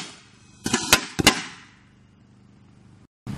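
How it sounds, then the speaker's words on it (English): Three bottle rockets fire inside a toaster oven, giving two sharp clusters of loud cracking bursts over a steady low hum, then a short quiet gap before another abrupt burst. "So next up, we're gonna try 3 bottle rockets."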